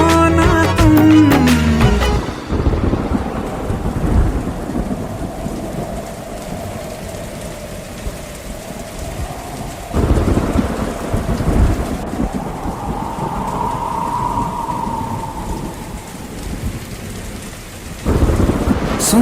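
Steady heavy rain pours on surfaces while loud thunder rumbles roll through repeatedly in a nighttime thunderstorm, with a brief musical tone at the start and a dense, continuous downpour throughout.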